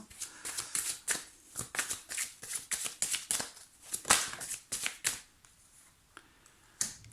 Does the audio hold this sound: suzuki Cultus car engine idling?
no